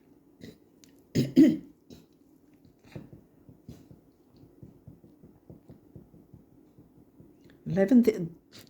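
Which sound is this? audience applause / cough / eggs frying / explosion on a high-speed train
cough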